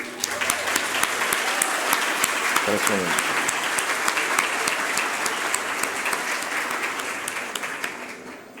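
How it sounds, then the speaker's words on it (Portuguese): A conference panel audience applauds steadily, dense clapping that holds at an even level for several seconds, with a voice briefly audible underneath. "Eu posso pedir de novo uma salva de palmas para vocês?"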